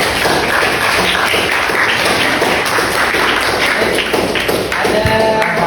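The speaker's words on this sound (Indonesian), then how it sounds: "Tepuk tangan untuk kelompoknya." A classroom group receives a dense, steady burst of applause from students, loud and continuous with overlapping taps throughout.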